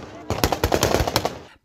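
Rapid bursts of automatic gunfire crackle outside Kabul airport amid the chaotic evacuation, a dense run of sharp cracks lasting over a second before cutting off, with faint voices beneath.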